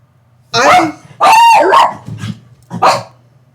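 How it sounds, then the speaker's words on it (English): A pet puppy barks in a few short, sharp bursts close by indoors, with a person talking in between. "See, there's my puppy."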